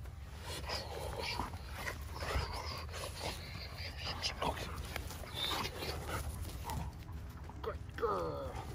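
A dog whimpers and whines in short high-pitched bursts, close by, amid scuffling and rustling, with a person's voice now and then.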